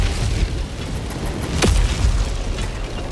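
A sentry turret blowing up in Helldivers 2: a deep booming blast amid continuous rumbling battlefield noise, with a sharp whistling streak in the middle of the short stretch.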